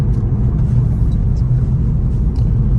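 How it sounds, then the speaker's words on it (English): Low steady rumble of a car coasting on a spare tire with the foot off the accelerator, continuous road and tire noise filling the interior. "I'm going to take my foot off of the accelerator and let go of the steering wheel."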